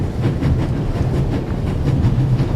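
Orient Express train from the video game The Raven rolling steadily along, a continuous low rumble with faint rhythmic rail clatter, loud and close throughout with no talking.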